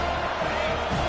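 A stadium crowd in the EA College Football 25 video game roars steadily as a dense, loud wash of cheering with no pauses.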